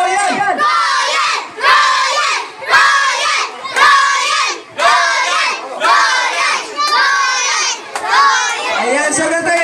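Group of children at a birthday party shouting together loudly in unison, several rhythmic bursts of massed young voices with brief pauses between them, close and energetic.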